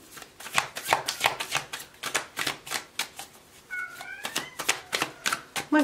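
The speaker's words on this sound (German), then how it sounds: "mein Kater miaut im Hintergrund" A cat gives one short meow partway through, heard under a rapid series of crisp cards being shuffled and slapped down.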